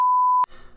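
A steady censor bleep tone sounds alone for just under half a second and cuts off abruptly, followed by faint low room noise.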